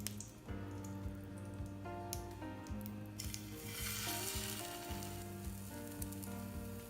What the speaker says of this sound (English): Now melt butter in pan over medium-high heat. Then place the roll into the pan.